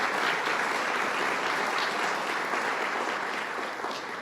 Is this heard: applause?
yes